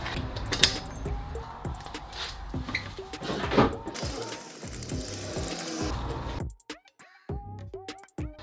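A ratchet wrench turns a BMW locking wheel nut, giving rapid clicking ratchet bursts close by, with metallic knocks and a few quieter clicks after a pause near the end.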